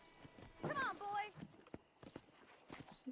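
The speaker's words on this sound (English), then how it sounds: "I picked out a fine horse for you." A horse in the Western video game Red Dead Redemption gives a short whinny, then a few soft hoof clops follow near the listener.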